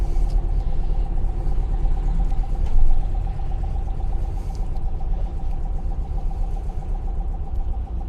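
A 1961 Porsche Super 90 pulls away under a heavy load, its engine a steady low rumble with a constant droning hum and a brief swell of throttle partway through, heard from inside the car.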